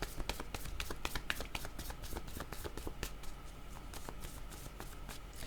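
Tarot cards are riffled and shuffled by hand in a rapid run of soft, close papery flicks and taps, quiet and without speech.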